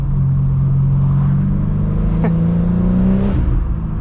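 A BMW M4 G82 engine runs with its exhaust valves closed, a low, steady drone that rises slightly in pitch as it accelerates, fairly subdued and smooth, with no talking.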